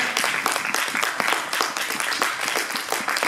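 A church congregation claps loudly together in praise of the Lord, a dense, steady run of rhythmic handclaps with no pause.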